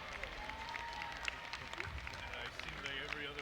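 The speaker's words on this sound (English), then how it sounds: "Applaud them as you stand here ready to graduate" Graduates at a commencement ceremony applaud their families, a soft, dense patter of many hands clapping from a distance, with voices murmuring underneath.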